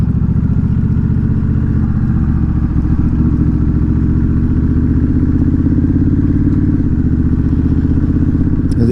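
A Honda Rebel 1100 DCT motorcycle engine heard while riding, a loud, steady, close low drone with a continuous rumble and slight shifts in pitch, with no talk.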